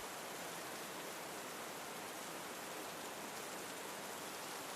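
Rain falls steadily outside a cabin, an even, dense wash of soft patter with no breaks or variation, faint and constant throughout.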